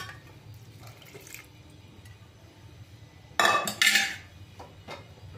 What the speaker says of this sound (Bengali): একদম হাফ কাপ মতো জল আমি এর মধ্যে আবার অ্যাড করে দিচ্ছি